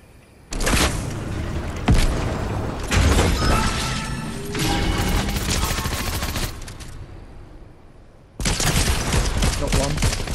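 Gunshots in loud, crowded bursts, several stretches of rapid fire broken by short pauses, close and harsh.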